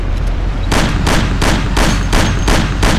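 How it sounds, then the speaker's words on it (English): Rapid gunfire from the Mafia Classic video game, a dense burst of loud repeated shots in steady rhythm with no talking over it. "Shoot him, Sam! Sam, shoot! Shoot him, Sam!"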